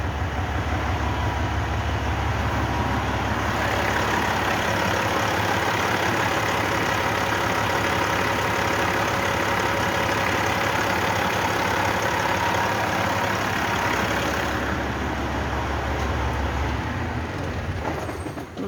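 A freshly rebuilt, warmed-up engine idling steadily and loudly, a continuous even rumble with no pauses.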